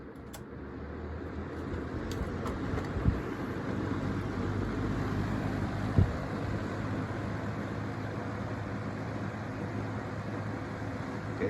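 A 2003 Lakewood Rain Guard 225RG box fan runs at medium speed with a steady whooshing airflow and low motor hum, close and even, broken only by a couple of faint clicks.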